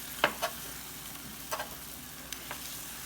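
Steak frying in a pan sizzles quietly while a metal utensil chops and scrapes at it, with several sharp knocks against the pan.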